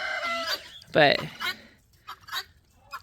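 Backyard chickens around their coop give several sharp clucks and squawks close by, one loud call standing out, followed by scattered shorter calls, with a person speaking briefly.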